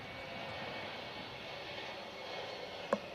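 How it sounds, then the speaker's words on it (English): A jet airliner takes off from nearby Songshan Airport in Taipei, heard as a steady, fairly distant engine roar that fills the whole stretch, with one brief knock near the end. "I don't know if our viewers can hear that plane taking off."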